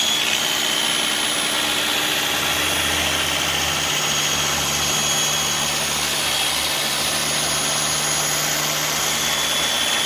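An HD Speed car polisher runs at speed setting 5, giving a loud, steady whirring drone with a constant motor whine throughout and no voices.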